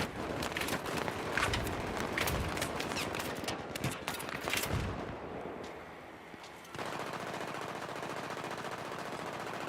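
Sustained machine gun fire in Battlefield 3 rattles in rapid bursts of close, dense shots over a noisy battlefield, easing after a few seconds into a steady background rumble of game ambience; no speech.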